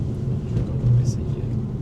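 A Ford Focus ST MK2 engine accelerates with a deep, steady rumble that swells slightly midway, close and fairly loud with no talking.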